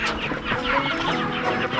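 Several chickens cluck continuously and loudly at close range, overlapping calls filling the whole stretch at a farm feeding where greens are handed out.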